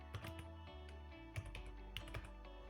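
A name typed on a computer keyboard into Python IDLE: a handful of soft, quick key taps at irregular spacing, faint under a steady low electrical hum, with no talk.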